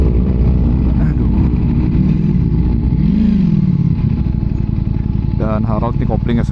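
A Ducati Streetfighter V4S is ridden, its engine a loud, continuous low roar with shifting pitch while the rider talks throughout.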